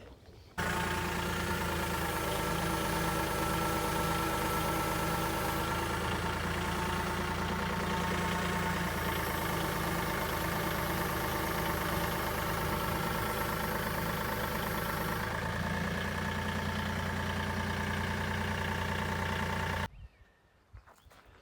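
A heavy diesel tractor engine idles steadily and loudly for a long stretch, a constant low chugging hum that cuts off abruptly near the end.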